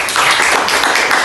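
Classroom applause for a student who topped a quiz, a dense, steady patter of many hands clapping close by for just over a second, with no talking.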